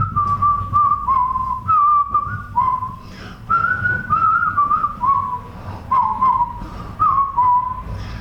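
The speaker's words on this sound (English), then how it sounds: "he was just so happy and carefree that he was whistling a happy tune" A person whistles a cheerful, lilting tune in short repeated phrases, close and clear, with a low rumble of background noise underneath.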